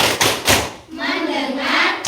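Students in a classroom do a rhythmic focus clap: two sharp claps, then a group chant, then another clap at the end.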